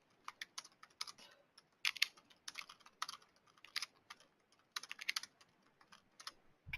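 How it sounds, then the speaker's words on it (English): Fingers type text on a computer keyboard in quick bursts of key clicks separated by short pauses, close up and fairly quiet. "you just type in terms and conditions here that they would have to accept."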